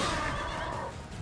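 A horse neighs in the Fire Emblem video game, a loud, rough whinny filling the short moment and fading slightly toward the end.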